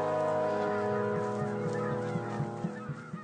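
Geese honk repeatedly in a dense, overlapping chorus, with many birds calling at once, steady and fairly loud throughout, in the Russian Arctic.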